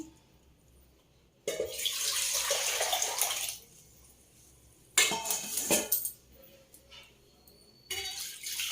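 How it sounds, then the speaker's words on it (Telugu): Water gushes into a pot of pepper rasam in two or three loud bursts, splashing and rushing, separated by short quiet pauses. "కొన్ని వాటర్ పోసుకొని"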